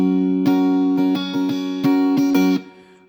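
An acoustic guitar is strummed with the fingers in a steady rhythmic pattern, several bright chord strokes ringing close and alone before the last chord is cut short.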